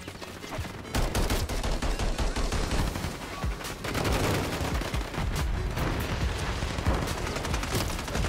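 Decoy grenades in Call of Duty: Modern Warfare 3 multiplayer give off fake gunfire, heard as a dense, continuous barrage of loud overlapping shots and bursts that runs nearly the whole time with no talking.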